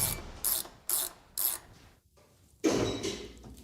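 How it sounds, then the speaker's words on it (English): A ratchet tightens a nut on a car strut, giving four short sharp clicking bursts in a rhythm, then a pause and a longer, louder bout of ratcheting, all close and with no speech. "I got a nut on mine, we just gotta tighten it"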